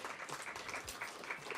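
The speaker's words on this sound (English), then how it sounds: "give yourselves a round of applause" A crowd claps together in a dense, steady patter of applause, moderately distant.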